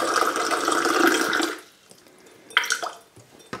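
Tap water pours steadily from a faucet, then cuts off, followed by a few quieter splashes and drips in a small indoor space.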